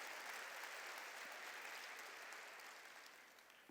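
A church congregation claps together during a sermon, a sustained, fairly distant wash of applause that slowly fades toward the end.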